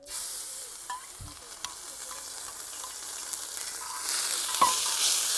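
A paste of ginger, garlic, green chili and coriander stems fries with cumin in a pan, giving a soft, steady sizzle with a few faint clinks and stirring scrapes, the hiss swelling slightly toward the end.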